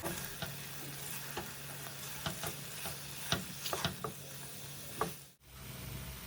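Chicken koththu with tomato, sauces and cheese frying on a hot pan, a steady sizzle broken by repeated sharp clinks and scrapes of two metal spoons chopping and mixing.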